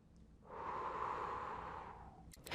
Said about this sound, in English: This is a structured breathing technique characterized by 2 stacked inhales followed by a long exhale.